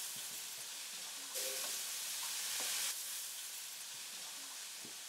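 Spice powders such as turmeric and chili powder sautéing while being stirred in a pan for tomato biryani, a steady close sizzle and hiss with scraping stirs that swells louder midway, no talking.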